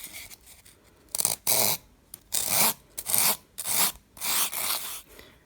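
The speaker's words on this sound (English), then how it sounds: "now I'm going to be taking my rasp and I'm going to be rasping all the sides" A rasp filed back and forth along the sides of a carved wooden knife decoration, in close, rough strokes that come in a steady run of about six bursts with short pauses between them.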